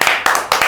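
Three quick, evenly spaced hand claps ring out sharply and close by, each a crisp burst in under a second.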